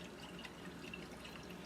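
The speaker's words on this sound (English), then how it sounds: "let me pour some water in here. Put the lid on, give it a shake" Water is poured into a glass jar that has held crockpot chicken Alfredo sauce, then sloshed inside as the jar is shaken with its lid on, a steady, soft, continuous watery rush throughout with no talking.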